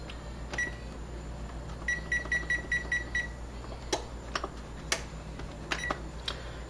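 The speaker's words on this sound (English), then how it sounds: "So we're gonna set the timer for 8 minutes." Kitchen oven timer being set for eight minutes while potato wedges bake, giving a quick series of faint, short electronic beeps followed by a few isolated clicks and beeps over a steady low hum.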